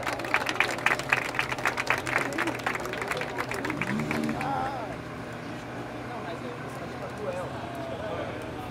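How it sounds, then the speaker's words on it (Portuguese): A crowd at a freestyle rap battle breaks into dense rapid clapping for about four seconds, then thins out into a murmur of voices and talk. "Salva de palmas aí, rapaziada."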